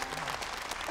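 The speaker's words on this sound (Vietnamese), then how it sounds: "Chúng ta hãy vỗ tay chào đón." Audience applause filling the room to welcome a guest lecturer at an event, dense steady clapping throughout, fairly close and even in loudness.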